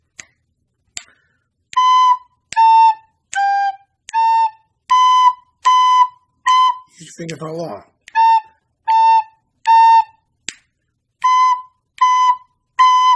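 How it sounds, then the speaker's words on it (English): A recorder plays Mary Had a Little Lamb as a steady run of clear, separate quarter notes at an even tempo, close and loud, with a short spoken phrase breaking in midway. "Mary had a little lamb, sounds like this."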